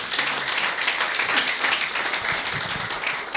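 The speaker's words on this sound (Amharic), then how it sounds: "እስቲ አጨብጭቡላችሁ" A church congregation breaks into sustained, dense applause, many hands clapping steadily and loudly throughout with no let-up.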